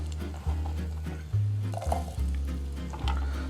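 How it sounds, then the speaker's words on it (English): Vegetables sautéing in grapeseed oil, a close, even sizzle with several soft thumps and scrapes from stirring in the pan. "We're gonna saute our ingredients."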